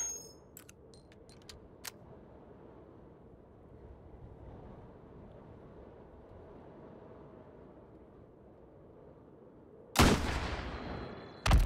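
Sniper rifle shots in the VR game Hot Dogs, Horseshoes & Hand Grenades: a few sharp cracks early, then a long low rumble, and a loud, dense blast near the end with another burst at the close.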